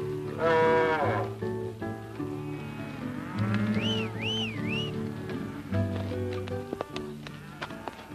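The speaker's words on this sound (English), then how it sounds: "Cattle moving." Cattle lowing as a herd is driven on a 1953 Western cattle drive, the moos rising and falling over a full orchestral score with a few faint hoof clops mixed in.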